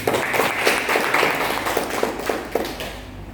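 An audience at a business network presentation in Lamongan claps, a short burst of scattered, uneven hand claps that fades out after a few seconds in a modest room.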